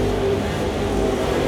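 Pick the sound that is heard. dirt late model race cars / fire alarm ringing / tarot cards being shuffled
dirt late model race cars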